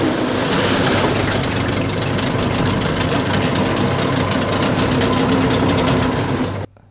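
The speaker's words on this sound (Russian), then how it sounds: "Дав ему половину газа, можно даже выше. А потом резко сбросить обороты." A carbureted motor runs steadily at raised revs, a loud, even drone with a low rumble, then cuts away sharply near the end as the speed drops.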